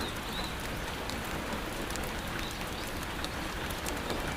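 Steady rain falling on an urban camp in London, a dense, continuous patter of drops on surfaces close by, with no voices.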